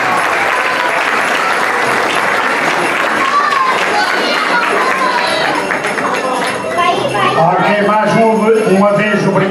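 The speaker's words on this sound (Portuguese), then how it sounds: "uma salva de palmas a ele e também a toda a nossa banda" Audience applauding a band president at a philharmonic band's Christmas celebration, a loud, steady wash of clapping that fills the whole stretch, with voices audible through it.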